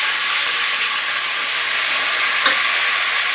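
Curry leaves and tomato frying in hot oil for tomato bath give a steady, close sizzle with a brief louder crackle near the end, no voices.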